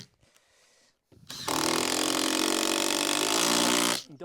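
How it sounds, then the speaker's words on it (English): A power driver sinks a screw into garden office boards: a brief tap and pause, then a loud, close, steady whirring burst for about two and a half seconds before cutting off. "We'll get a couple of screws in this now, it'll hold it."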